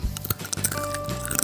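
Crunchy chewing of sweet and spicy kribo peanuts, an Indonesian festive snack, close up with several crisp bites and crackles in quick succession and no talking.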